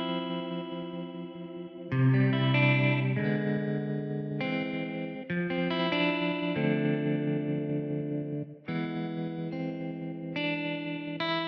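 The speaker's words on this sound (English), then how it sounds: "now I'm going to mess with this spring reverb" Sustained electric guitar chords through a spring reverb effect ring out with a splashy, washy reverb tail, several strummed changes in a slow steady sequence, with no talking.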